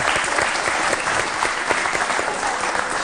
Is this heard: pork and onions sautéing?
no